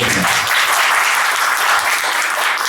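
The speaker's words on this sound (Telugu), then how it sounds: "చప్పట్లు కొడదాం అందరం ఒకసారి" An audience claps steadily for a few seconds, a dense, loud wash of applause without voices, following a talk about the infant Jesus laid in a manger.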